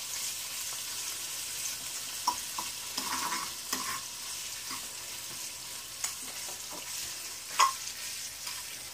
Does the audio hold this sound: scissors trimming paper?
no